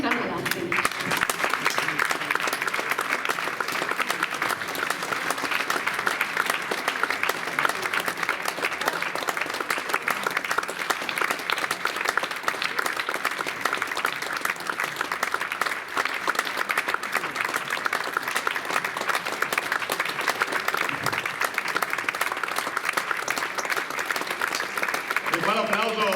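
Sustained audience applause fills Sala Europa in Taglio di Po at a music evening, dense, steady clapping that carries on unbroken for a long stretch, with faint voices mixed in.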